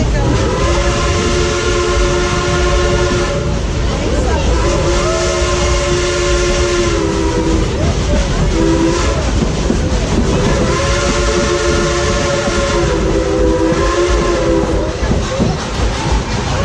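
The Dollywood Express, a World War II veteran steam train, rolls along the rails with a loud, continuous clatter and repeated long whistle blasts, and a voice talks in the background.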